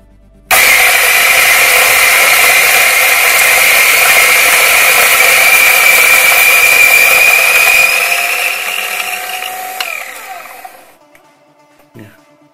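A Guglielmo JX500 coffee grinder grinding coffee beans at setting 4 starts with a sudden loud, steady whirring grind that holds for several seconds, then thins out and winds down as the beans run out, ending with a brief click.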